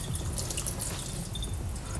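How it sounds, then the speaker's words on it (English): Extra water pours and trickles out of a TINANA crystal clear ice ball maker mould, a steady close splashing stream with faint drips, heard without speech. "So basically want to pour out the extra water"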